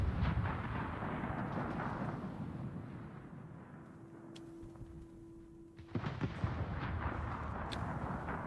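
Naval guns fire in World of Warships, heavy distant booms with a low rumbling roll over a quiet background, followed by a sharp burst of further shots near the end.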